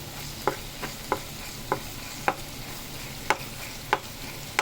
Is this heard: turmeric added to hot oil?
yes